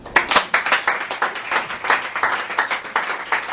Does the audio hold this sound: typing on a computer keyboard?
no